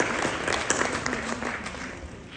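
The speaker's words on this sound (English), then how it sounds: "with a big round of applause" An audience at a panel discussion applauds in a soft, steady patter heard from a distance, with a voice faintly underneath.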